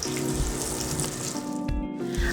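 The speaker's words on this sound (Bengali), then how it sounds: "আমি তেলের সাথে এখন পেঁয়াজ হালকা করে ভেজে নেব।" Chopped onion frying in soybean oil, a dense, loud, continuous sizzle like rushing water, briefly dipping near the end before resuming.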